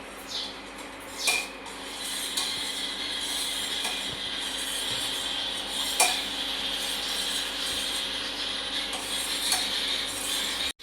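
Milk heating in a pot while a spoon stirs it: a soft steady hiss with occasional light clinks and scrapes of the utensil against the pot, close and fairly quiet.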